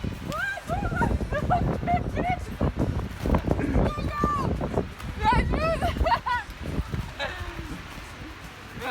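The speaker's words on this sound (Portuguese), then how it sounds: "tem um cachorrinho" A small dog yips and whimpers repeatedly in quick high-pitched bursts, close by, over gusty wind noise in 2-degree cold near the Black Sea in Istanbul.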